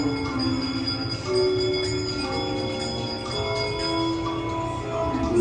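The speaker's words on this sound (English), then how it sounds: "give us a hint by ringing a bell" Bells ring at a Disneyland ride with overlapping sustained tones, several pitched strikes layering into a shimmering, lingering chime that continues throughout.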